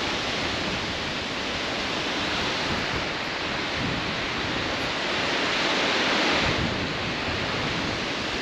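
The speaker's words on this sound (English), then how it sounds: "Look at that waterfall." Ribbon Falls, a tall waterfall, rushes in a steady, dense roar heard close by, a continuous broadband wash of falling water with no pauses and some wind across the microphone.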